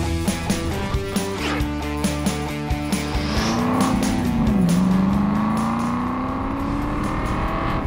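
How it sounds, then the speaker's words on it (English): A car engine revs and accelerates, rising steadily in pitch, with clicking and rattling at first, loud and continuous. "The car's insanely heavy, but man, what a noise."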